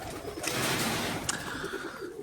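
Several pigeons in a loft coo in a steady, pulsing murmur nearby, with a brief sharp knock midway.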